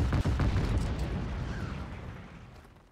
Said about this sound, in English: let's go blow up tank